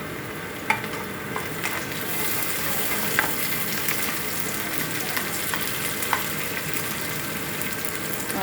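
Tomato pieces sizzle and fry in a pan of Telangana-style goat head curry, a steady close crackle running throughout with a few sharp spoon clinks and stirring scrapes, no voices.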